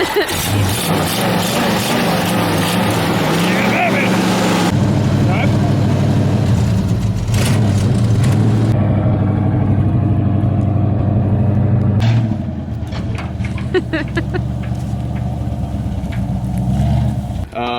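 A truck engine runs loud and close throughout, surging and dropping in revs with some sharp pops that fit backfires, and the running note changes partway through.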